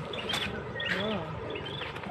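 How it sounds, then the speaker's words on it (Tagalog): A few birds chirp and tweet in short bursts against a soft outdoor background, with a voice murmuring underneath. "naririnig mo lang dito, mga ibon"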